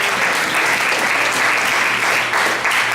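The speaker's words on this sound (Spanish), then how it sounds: "Démosle un fuerte aplauso a nuestro Padre Celestial" A church congregation bursts into strong, dense applause, loud and steady throughout with no letup, many hands clapping together close by.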